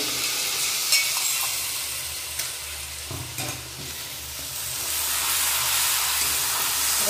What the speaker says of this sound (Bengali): তেলের মধ্যে এটা একটু ভাজা ভাজা করে নিয়ে বাকি মশলাগুলো দেবো